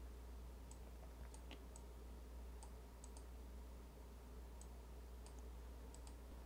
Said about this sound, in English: So I'm going to go ahead and click the first level.